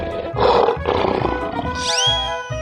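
Two rough lion roars from a 3D animal slide game burst out close and loud, followed by a rising chime, with a thumping music beat pulsing underneath.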